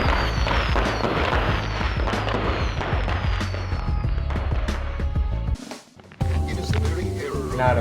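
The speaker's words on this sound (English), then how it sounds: "why do fireworks go boom?" Fireworks going off in a dense, continuous barrage of booms, crackles and whistling trails, loud and close, with a brief near-silence before the bursts resume.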